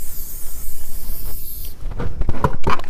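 Aerosol Quick Shot tire dressing sprayed onto a car tire: a loud, continuous hiss that cuts off midway, followed by a few short bursts and clattering handling sounds.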